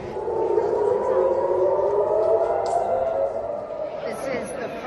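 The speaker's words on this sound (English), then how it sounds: "This is the first time today that we have had sirens" Civil defense air raid sirens wail on a beach as people head for a shelter, a loud, steady wavering tone sustained throughout, with crowd noise and talk mixed beneath.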